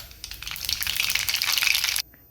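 Half a spoon of mustard seeds drops into hot oil, setting off a loud, close crackling sizzle that rises quickly, holds for about two seconds and then cuts off abruptly.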